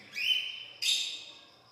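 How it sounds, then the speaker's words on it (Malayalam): Cockatiels at Al Ain Zoo give two bright, close chirps in quick succession, each a short rising whistle-like call heard alone against quiet background. "കോക്ടെയിൽസ് ഉണ്ട് ഇവിടെ."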